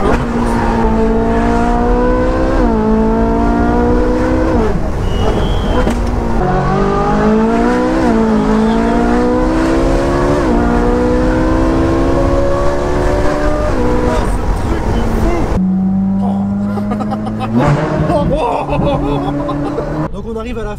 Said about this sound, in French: Une caisse de course, c'est une caisse de course.